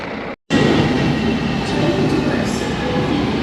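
A steady, loud rumble of a train at a railway station in Malaysia, with a continuous roar of wheels and machinery and a momentary gap near the start.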